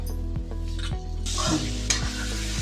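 Chili powder is stirred into a sizzling brinjal, potato and pea curry in a pan, a spoon scraping in a few rhythmic strokes over continuous frying hiss, close and clear.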